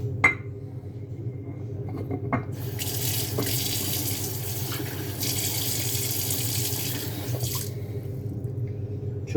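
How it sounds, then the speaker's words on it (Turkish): Hot water pours in a steady, hissing stream into a coffee maker, filling it up to the valve. The flow starts after a couple of clinks and runs for several seconds before a brief clatter as it stops. "Şu valfa kadar sıcak su konuluyor."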